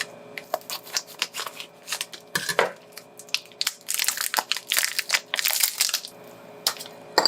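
A packet of dog food torn open by hand, giving a run of crinkly, crunching plastic rips and rustles, some sharp and bright, close and fairly loud with brief pauses between bursts.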